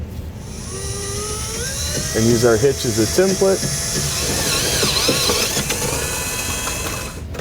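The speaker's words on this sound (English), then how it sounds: "so we know where to drill our forward hole" High-pitched whine of a power drill with a 17/32 bit running steadily through the frame of a 2015 Subaru Legacy, with someone speaking briefly over it partway through.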